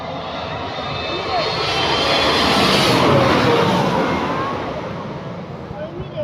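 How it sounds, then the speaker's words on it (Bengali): An airplane coming in to land near Shahjalal International Airport roars loudly and steadily overhead, its engine noise swelling to a peak midway and then easing off slightly. "এই যে বিমান নামতেছে"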